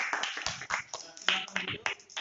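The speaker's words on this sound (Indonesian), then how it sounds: "Tepuk tangan." Students clapping in a classroom, a short burst of scattered, uneven applause from a small group, with voices talking over it.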